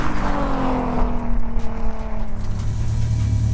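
A Nissan R32 GTR and a Subaru Impreza race side by side, engines roaring loudly and continuously with a falling then rising pitch as the cars pull hard, with no speech.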